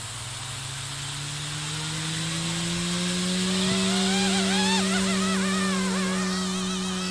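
Blade Infusion 180 RC helicopter running at high head speed in 3D mode, a loud steady whine with strong rising tones that waver and climb mid-way, continuous and alone without talk.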